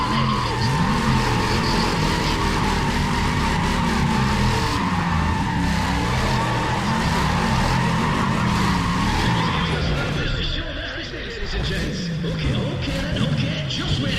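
Loud engine roar and tire squeal from a 670 Corvette race car in a racing video game, a sustained skidding howl with shifting engine pitch that dips briefly before resuming.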